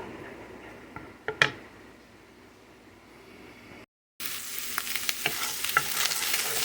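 Shrimp frying in a pan for a pointed gourd dish, a soft steady sizzle broken by clicking stirs. A brief silent gap occurs partway through, after which the sizzle comes back louder and more hissing, with no speech.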